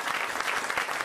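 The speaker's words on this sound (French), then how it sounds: "je vous demande de les applaudir" Dense, steady audience applause fills a studio for a brief moment, loud and continuous with no break in the clapping.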